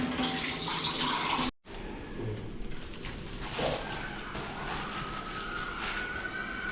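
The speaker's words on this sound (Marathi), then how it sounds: "आता मी व्यवस्थित सर्व धुवून घेतो पाण्याने" Running tap water pours continuously into a sink while things are washed, with a brief break near the start before the flow resumes steadily.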